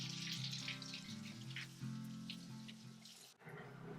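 Running tap water pours over a compressed cellulose sponge, a steady splashing hiss over a low hum, briefly dipping before the flow resumes.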